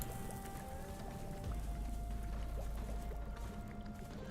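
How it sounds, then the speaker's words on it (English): Waves crash in the Limbus Company video game as a quiet, steady wash of water with a low surging swell in the middle, alongside faint tonal game ambience. "Do you hear the sound of the crashing waves?"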